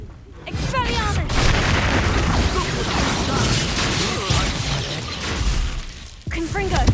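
Repeated spell blasts in Hogwarts Legacy combat, including the Expelliarmus disarming charm: loud booms, cracks and bursting impacts follow one another across the scene, with shouted voices mixed in.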